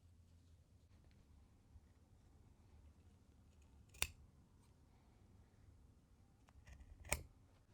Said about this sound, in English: I'm going to snip off these goofy little triangles now.